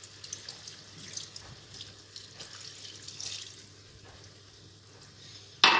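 Water trickles and splashes steadily as half a litre is poured into a pan while making a veal blanquette sauce, a soft continuous flow ending in a sharper clatter.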